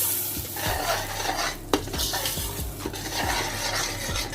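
Pulao masala being stirred into chicken pulao in a pot, with repeated scraping and clinking strokes of a spoon against metal over a low sizzle, close and steady, with no talking.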